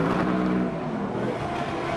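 GT1 race cars pulling away on a wet track in Russia, a loud continuous engine roar with hissing spray, close and steady throughout.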